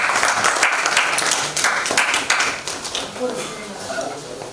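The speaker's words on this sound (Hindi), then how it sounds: "जोरदार तालियों के साथ स्वागत कीजिए।" An audience applauds to welcome the chief guest at a lamp-lighting ceremony, a loud burst of clapping that gradually fades and thins over a few seconds.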